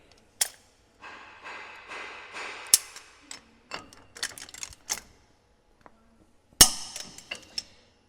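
A torque wrench set to 200 foot-pounds tightens a truck wheel hub nut on a Stemco hub assembly, with sharp metallic clicks and ratcheting taps scattered across the clip, close and distinct between quiet gaps.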